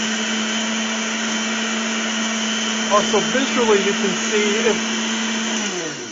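A blender whirs steadily as it chops ice for a banana daiquiri, a loud continuous motor drone holding for several seconds before winding down near the end, with a voice talking over it partway through.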